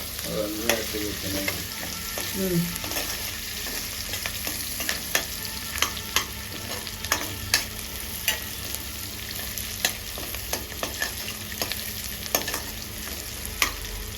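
Tomato fries in a pan for a gongura gravy with a steady, fairly quiet sizzle. Sharp scraping clicks from stirring recur every second or so over the constant hiss.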